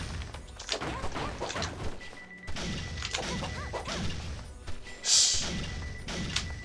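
Bombs exploding in the Exorcist Fairy video game, a dense stream of repeated thuds and crashes under busy game music and effects, with a sharp burst standing out near the end.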